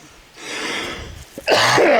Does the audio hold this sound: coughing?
yes